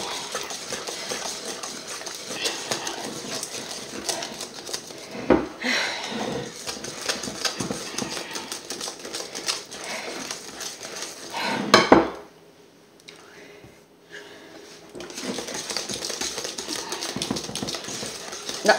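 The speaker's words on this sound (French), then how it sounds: "On remue." Tiramisu mixture is stirred hard in a bowl, with a continuous close clatter and scrape of the utensil against the sides. It breaks off briefly, then resumes just as busily.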